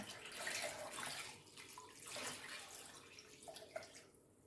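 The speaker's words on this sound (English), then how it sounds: "now we are going to put some water in here. This is just tap water." Quiet, steady splashing of tap water pouring into a slow cooker, continuous and low in level, without speech.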